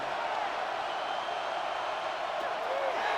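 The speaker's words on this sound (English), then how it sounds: "What about this crowd getting even louder before 3rd and 10?" Stadium crowd noise from the Madden 26 football video game, a steady dense roar of many voices holding loud and even throughout, with no clear single voices standing out.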